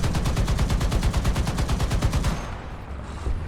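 Rapid anti-aircraft cannon fire in War Thunder from an M8 HMC, a steady loud stream of closely spaced shots for about two and a half seconds, then breaking off into quieter background rumble.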